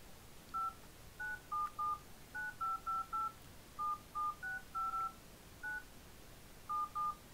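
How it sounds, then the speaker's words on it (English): A series of short telephone keypad dialing beeps, about fifteen tones in uneven rhythm with brief gaps, clear and isolated against faint background hiss. "I'm trying to play All Star with like the dial tone."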